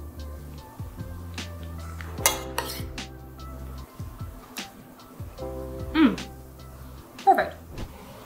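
Edamame green goddess dressing tossed into a bowl of chicken and vegetables, with a utensil clinking and scraping against the bowl several times amid soft kitchen clatter.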